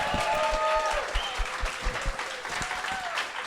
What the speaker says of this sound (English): give a round of applause for Linda